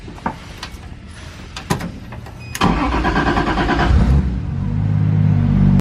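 A 1.5JZ-engined car with a 3.0-litre bottom end and turbo cranks and fires up after a few clicks and clunks, then settles into a loud, rumbling idle that swells as it pulls away gently.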